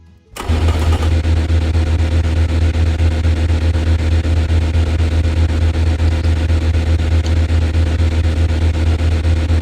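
A flat-plane crank V8 rated to 12,000 RPM with a very loud exhaust, in the games Automation or BeamNG.drive, fires up and settles into a loud, steady, droning idle that holds without pause, with no talking.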